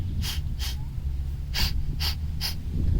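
Forceful nasal exhalations of Kapalbhati breathing done to clear the nose during a cough and cold, five short sharp puffs in an uneven rhythm, close and fairly loud over a low background hum.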